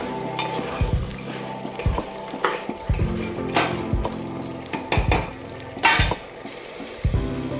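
A spoon stirs mutton korma spices around a pot, scraping and clinking against the metal in repeated strokes over a steady sizzle of frying, close and fairly loud with no talking.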